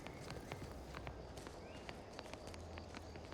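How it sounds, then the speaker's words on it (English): Footsteps in the video game The Outer Worlds 2 with a slapping, flip-flop-like quality, a steady run of quiet soft taps over a low background hum. "Like you hear the sound of my footsteps?"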